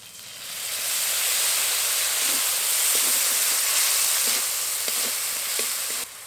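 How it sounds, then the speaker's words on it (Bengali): Ground cumin, green chilli and ginger paste loosened with a little water fries in a pan for kolar thor (banana stem curry), a steady loud sizzle with scattered pops and crackles, no voices. "এবার আদা বাটা দেওয়ার পর খুব ভালো করে ভেজে নেব"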